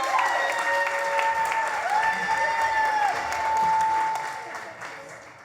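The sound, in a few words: audience applause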